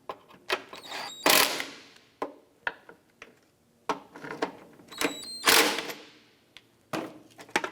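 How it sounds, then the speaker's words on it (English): Bolts on the windshield washer reservoir of a 2004-2008 Acura TL are snugged down, producing sharp ratcheting clicks and short mechanical bursts in an uneven rhythm, close and otherwise quiet. "Then we'll get our rearward bolt installed. And we'll snug those down."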